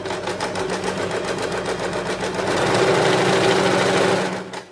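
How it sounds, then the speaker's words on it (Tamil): Sewing machine stitching a cloth duster, running in a fast continuous mechanical chatter that grows slightly louder partway through before stopping near the end. "மார்க் பண்ண இடத்துலையே இப்படியே ஸ்டிச் பண்ணிக்கிட்டே வாங்க"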